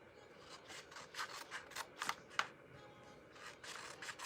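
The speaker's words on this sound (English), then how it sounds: "So I'm going to cut that up to that score line." Scissors or a trimmer cut through cardstock up to a score line for a paper-craft beverage package, a soft series of raspy snips and rubs at a steady rhythm, faint and close over a quiet background.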